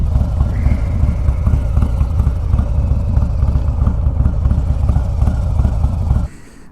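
A Harley-Davidson Low Rider S motorcycle engine pulling over, a loud close rumble with steady low-pitched throb and wind noise that drops off sharply near the end as the bike slows.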